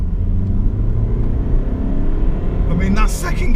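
Remapped Honda CR-V accelerating from second into third gear, a steady in-cabin engine rumble that builds, with someone talking over it throughout.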